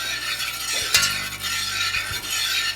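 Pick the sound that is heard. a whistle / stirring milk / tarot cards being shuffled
stirring milk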